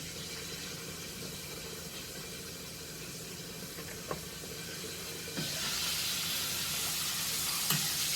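Pork loin chops frying in grease in a pan, a steady close sizzle and hiss throughout, with a few soft clicks of a utensil turning the meat.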